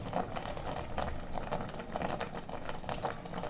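Ground masala paste for chana masala bubbles and boils steadily in a pan, a continuous thick bubbling with small pops and spits throughout, no talk.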